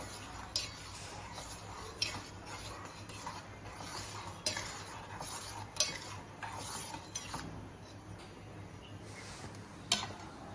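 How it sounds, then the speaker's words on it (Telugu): Spoon stirring sweet vermicelli payasam with sugar in a pot, giving quiet scraping swishes and light clinks at an irregular pace, close but soft, with a faint hum underneath and no talking. "ఇప్పుడు దీన్ని కలుపుదాం"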